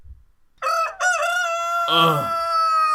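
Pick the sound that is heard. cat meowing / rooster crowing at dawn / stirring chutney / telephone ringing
rooster crowing at dawn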